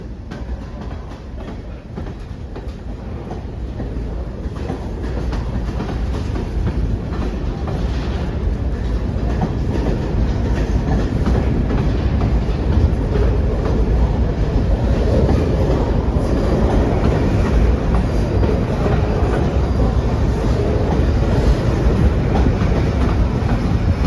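A long LIRR train rolls past at Hicksville station, a loud, steady rumble of wheels and cars that builds and holds for the whole stretch.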